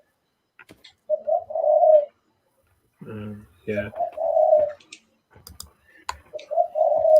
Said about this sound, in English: It's a wild bird that must be in one of the trees near my bedroom